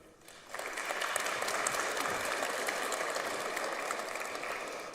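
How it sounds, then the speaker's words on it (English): Audience clapping at a college presidential installation ceremony rises quickly from near quiet into sustained, dense applause filling the hall, steady and even for several seconds. "Now you can hold your applause."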